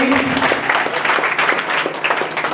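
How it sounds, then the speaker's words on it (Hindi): Clapping from a gathered crowd at an informal group event, a loud, close burst of many hands with uneven swells, and a voice briefly heard at the start. "तालियां तो बजा दो आपके साथ में ही"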